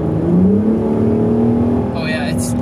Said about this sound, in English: the one thing about the VR6 that's so interesting about it is its sound